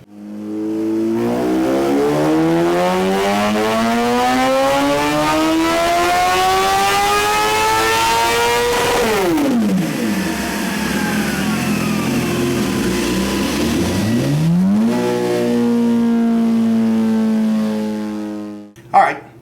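A 2017 Suzuki GSX-R1000 screams through a dyno run, climbing steadily in pitch to a high-rev wail, dropping sharply during a shift, then rising again before backing off, loud and close throughout.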